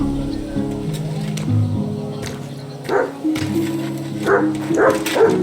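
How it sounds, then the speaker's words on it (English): A dog barks in the video game Kingdom Come Deliverance 2, several short barks rising over background music and game ambience. "Good doggy. Good boy."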